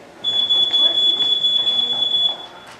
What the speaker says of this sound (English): a smoke detector can only do one thing. It makes a loud noise when it smells smoke